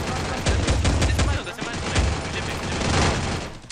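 Loud, rapid video game gunfire rattles in dense bursts throughout, with voices faintly mixed underneath.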